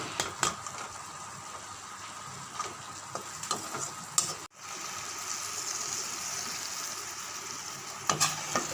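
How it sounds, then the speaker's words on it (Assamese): Spices fry in a hot pan with a steady sizzle, broken by scrapes and clinks of a spatula stirring, close and moderately loud, with no talking. "এতিয়া মছলাবোৰ ভালদৰে ভাজি ল'ম।"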